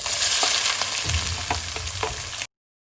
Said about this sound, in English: While the onion is getting sauteed